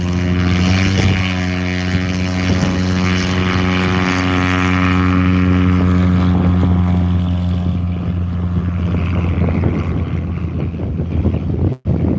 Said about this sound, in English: Watch this short takeoff here.